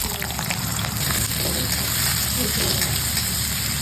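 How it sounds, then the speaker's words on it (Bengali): Spices sizzle in hot oil in a wok on a gas stove for a Bengali mixed vegetable dish, giving a steady, close, crackling hiss throughout, with a voice talking underneath. "মশলাটা একটু ভাজা করে নিলাম"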